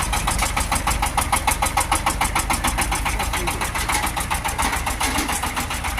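A Shifeng 354 tractor with live hydraulics runs its engine at a steady, rapid knocking idle, close and continuous, with a faint voice in the background.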